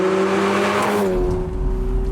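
A manual Lamborghini Murcielago's engine revs up hard, its pitch rising, then settles into a loud, deep rumble close by.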